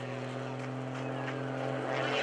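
An aerobatic airplane's engine drones loud and steady during a tumble maneuver at the Greenwood Lake airshow, with a strong low hum and faint crowd or announcer voices beneath.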